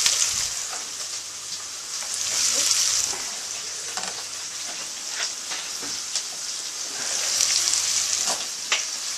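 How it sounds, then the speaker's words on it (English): Peppers and onions fry in a pan for curry with a loud, continuous close sizzle, swelling twice as they are tossed and stirred, with occasional scraping clicks. "chuck the peppers in."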